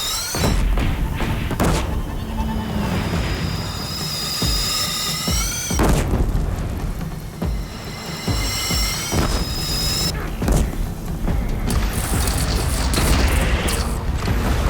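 A mounted cannon fires from a platform in the video game Horizon Zero Dawn. Heavy booms and thuds repeat over a whining, rising mechanical tone, loud and close, within a busy, continuous battle soundscape.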